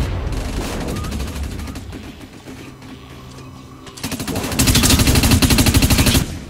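Automatic assault rifle fire in the sci-fi shooter Dust 514: long rapid bursts of close gunfire, quieter in the middle, then a loud dense volley near the end.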